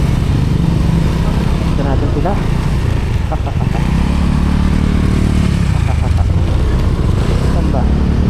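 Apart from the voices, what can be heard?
motorcycle engine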